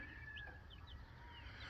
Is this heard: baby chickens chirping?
yes